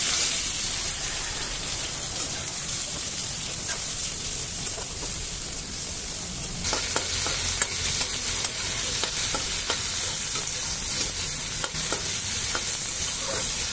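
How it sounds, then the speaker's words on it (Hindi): Onions sizzle and crackle steadily in a pan with a dense hiss, becoming louder and busier about halfway through, with scattered clicks from stirring. "अभी ऑनियन को फ्राई कर लूंगी।"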